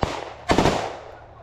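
Machine gun fire during a close-quarters battle between Ukrainian and Russian soldiers, two sharp loud reports roughly half a second apart, each cracking out and then rolling into a long echoing decay.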